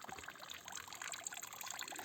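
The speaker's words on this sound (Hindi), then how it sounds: "ये आप देख सकते हैं यहाँ पर बहता हुआ पानी।" Natural water flows and trickles in a jungle, a continuous close babble of small splashes and dribbles at a moderate, even level with no voices.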